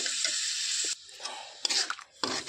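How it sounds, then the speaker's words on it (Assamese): Jaggery melting with a cup of water in a pot is stirred for a rice-cake sweet, making a bright hiss that cuts off and gives way to scraping, clinking stirring strokes nearby. "ভালদৰে লৰাই থাকোঁ, গলি যাব।"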